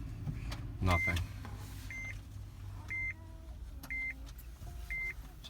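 A 2014 Honda Odyssey EX-L that won't start gives a clear electronic beep about once a second, four beeps in a row, over a low interior rumble. A brief voice is heard near the start.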